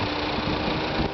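A high-mileage Plymouth Sundance car with a worn transmission gives off a low, steady rumble with a faint chattering edge, close and constant over about a second with no talk.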